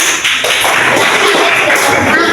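A class of students claps during a concentration exercise, making a loud, dense, continuous patter of many hands that runs the whole stretch without clear pauses.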